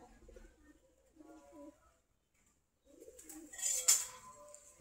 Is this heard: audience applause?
no